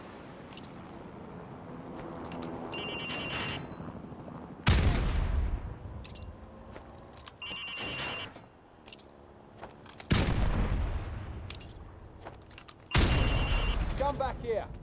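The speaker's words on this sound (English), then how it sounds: "Now throw a grenade into windows 2, 3, and 4." Grenades burst loudly in Call of Duty: Modern Warfare Remastered, four heavy booms spaced a few seconds apart over steady background gunfire and mechanical clatter, with a voice sometimes talking underneath.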